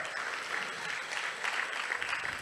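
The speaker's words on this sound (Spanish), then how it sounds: "Por favor, un fuerte aplauso para la doctora Linet Maradiaga" A conference audience claps steadily and densely for a speaker, a continuous even wash of applause without pause.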